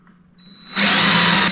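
A power drill with a tiny bit boring into a 1982 VW Vanagon during a KC lights install, faint whine at first, then a loud steady high-pitched spin that cuts off abruptly.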